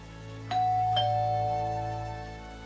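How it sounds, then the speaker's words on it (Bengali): A two-tone ding-dong doorbell chimes once, clear and close, its second note ringing out and fading slowly over a low steady hum, used as a sound effect in a Bengali audio love story. "শুভদের কলিং বেল বাজতেই কাকিমা দরজা খুললেন"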